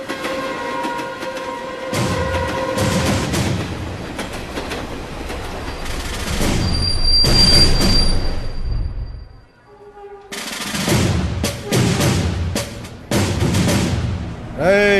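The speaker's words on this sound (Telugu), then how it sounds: "మన తర్వాత వచ్చిన ట్రైన్ కూడా వెళ్ళిపోతుంది." A train thunders past in a Telugu action film scene, a loud rhythmic clatter of wheels over rail joints with rumbling carriages, briefly dropping away before another heavy burst of clattering resumes.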